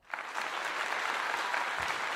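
Applause from a crowd at a college football game between Colorado and UCF starts suddenly and holds as dense, steady clapping for a couple of seconds, with no talking.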